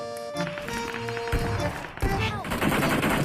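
Dense PUBG Mobile video game gunfire, rapid automatic bursts and single shots layered over busy game sounds and music tones, loud and continuous, with speech mixed in.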